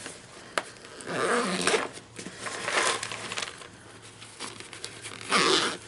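A zipper on a packed storage bag is pulled in several short, close, rasping strokes separated by brief pauses, with faint handling rustle in between.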